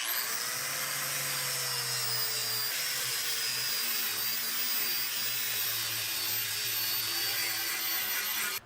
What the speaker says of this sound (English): I've got this wire brush, and I'm going to go through and just take the top edge of this off